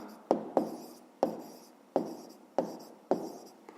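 Pen writing a math answer on paper: six sharp taps, each followed by a short scratchy stroke, spaced unevenly and heard close in a quiet room.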